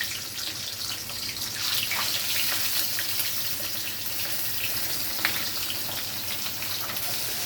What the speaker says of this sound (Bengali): তেল গরম হয়ে গেছে, মাছগুলো আমি ভেজে নিচ্ছি।